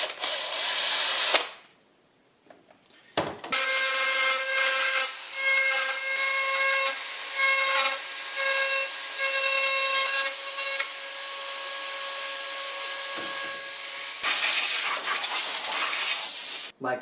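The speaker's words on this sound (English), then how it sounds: "So all I have to do is drill up the hole, because I got some epoxy in there." A small power drill bores epoxy out of a hole in the instrument-cluster bezel of a 1976 Mazda RX-5, a steady whining drone lasting about ten seconds after a brief earlier burst, close up with no talking.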